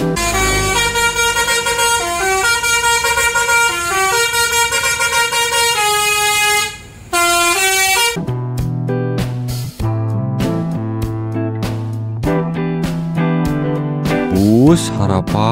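A green Gunung Harta bus sounds its telolet horn, a loud, close string of tuneful multi-tone melodic honks that changes pitch in repeated phrases. A second run of melodic horn blasts follows after a brief gap.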